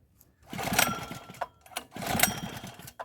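A Firman portable generator is pull-started in freezing cold, around -10 Celsius. Two rapid rattling, mechanical cranking bursts come from the recoil pull, close and fairly loud, with a brief pause between them and no start.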